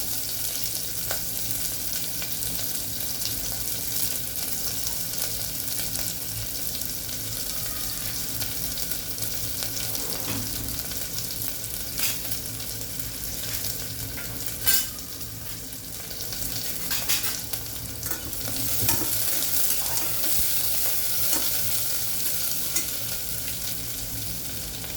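Sliced onions and a bay leaf fry on high heat in a pan while cooking mint rice, a steady close sizzle with occasional stirring scrapes and clinks.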